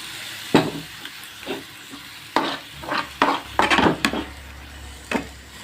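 Tomato puree being stirred into a frying Odia-style bhakur fish curry: a spoon scrapes through the pan in irregular strokes over a low sizzle, with a few sharper knocks against the pot and no talking.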